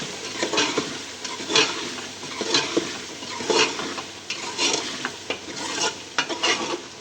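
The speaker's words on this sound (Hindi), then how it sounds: "ये देखें जी, सारे मसाले के अदरक लहसुन को भूना मैंने आधा सेकंड" Ginger, garlic and spices for aloo gobi fry in a pan while a utensil stirs and scrapes them, giving a soft, constant sizzle broken by close, irregular scraping strokes.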